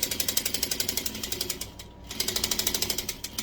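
A sewing machine back-stitching a pillow seam runs with a fast, even mechanical ticking up close, pauses briefly midway, then resumes the same rapid rhythm.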